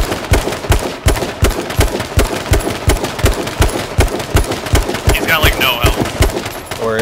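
Rapid automatic gunfire in the H1Z1 video game, loud steady bursts of evenly spaced shots hammering at a target behind a tree, with a voice talking over the shooting.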